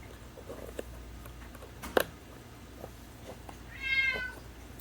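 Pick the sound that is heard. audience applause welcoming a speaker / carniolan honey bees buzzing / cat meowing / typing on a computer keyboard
cat meowing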